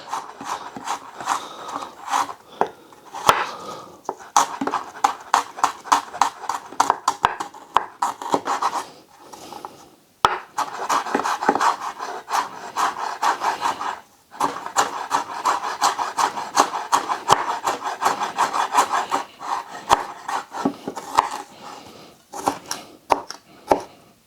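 Knife finely slicing raw skin-on chicken on a cutting board for a Chinese chicken and mushroom stir fry, with rapid, close, steady rasping strokes that pause briefly partway through.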